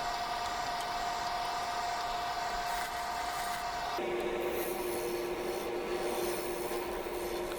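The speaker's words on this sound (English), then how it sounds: "here I am marking for the mortise part of the foot. And using the skew chisel" A skew chisel shaves wood on a lathe while a bowl foot is turned, giving a steady, continuous rubbing hiss with a faint constant hum, the pitch stepping down partway through.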